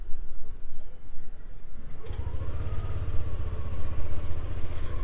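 Yamaha Aerox 155 scooter firing up with a smooth one-touch start, then settling into a steady, close idle that hums on its own with no loud starter noise.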